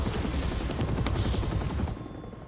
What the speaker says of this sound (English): This is a friggin' helicopter.